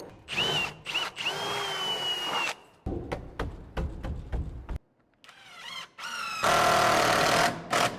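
A power drill or impact driver tightens a bolt in loud, close bursts: long whirring runs broken by rapid clattering pulses and short stops, with no talking.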